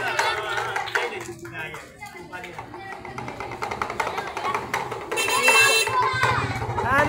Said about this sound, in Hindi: तेज करो ताली लाओ जरा तेज